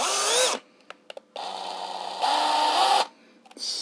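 A Lidl cordless screwdriver runs in short bursts, its motor whining steadily, then rising to a higher-pitched spin before stopping, close and loud with no talking.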